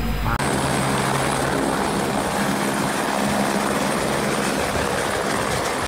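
Toy helicopter whirring steadily and fairly loudly throughout after a brief start, a continuous buzzy rotor-like drone with no talk over it.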